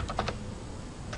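Rapid keystrokes on a Bloomberg terminal keyboard, with three or four distinct close clicks early on, then a steady low hum of room noise and no voices.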